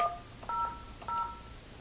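Telephone keypad presses while programming feature keys on an ESI business phone, three short DTMF tone beeps spaced roughly half a second apart, clear and alone over a faint background hiss.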